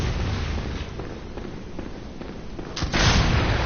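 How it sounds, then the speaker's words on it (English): Gunfire in the Bloodborne video game, a dense, rumbling barrage of shots and booms that swells into a louder, sustained blast near the end, with no voices. "I just got shot in the face"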